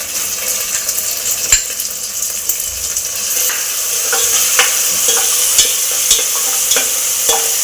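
Tomato goes into a hot pan and fries for Andhra-style pumpkin vadiyalu pulusu, giving a steady broadband sizzle with scattered clicks from stirring and the pan, and no talking.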